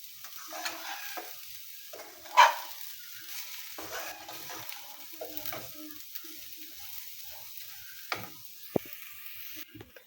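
Lachha semai frying on a low flame while being stirred: a soft, faint sizzle with occasional light scrapes and one sharper clink of the spoon against the pan.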